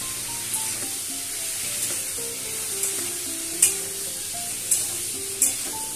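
Potatoes frying in hot oil with a little turmeric, a steady sizzle under intermittent stirring, with a few sharper clinks of the spoon against the pan as it goes.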